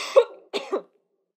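Two quick, close coughs, the second a double burst, followed by silence.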